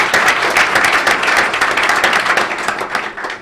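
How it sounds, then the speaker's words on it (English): Applause from the audience at a village board meeting, a steady dense clatter of many hands clapping throughout, fairly loud and close, tapering slightly at the end with no talking. "Applause in absentia."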